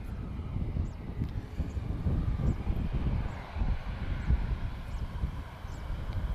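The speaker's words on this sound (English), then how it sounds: "This is EasyJet. She's off to London Luton. A320neo." An EasyJet Airbus A320neo departs Lisbon Airport, its jet engines a broad, steady low roar heard from a distance, mixed with wind buffeting the microphone.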